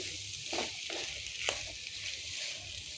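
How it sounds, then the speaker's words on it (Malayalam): Clam meat stir-frying in masala as the water cooks off, a soft continuous sizzle with a few scraping stirs near the start and one sharp clink of the utensil, close and fairly quiet. "വെള്ളം വറ്റിച്ച് നല്ല ഫ്രൈ ചെയ്തെടുത്ത കക്ക ഇറച്ചി റെഡി."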